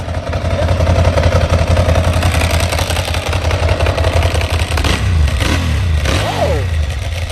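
A Yamaha R1M sport motorcycle engine idles with a loud, steady rumble, then revs up sharply a couple of times near the end.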